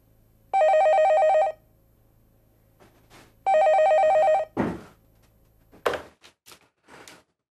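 An old-style telephone bell rings twice in long electronic bursts, loud and close in an indoor room, followed by handling knocks and clatter as the receiver is picked up.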